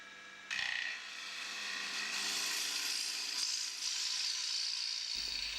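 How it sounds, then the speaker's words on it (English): A woodturning gouge cuts into a spinning wooden bowl blank, pushed toward the centre to deepen the hollow, giving a steady, close, hissing scrape that holds for several seconds before stopping abruptly. "The gouge is pushed in towards the centre with the cut occurring on the lower wing"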